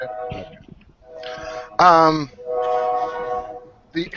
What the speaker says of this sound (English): Whoa, there's a train.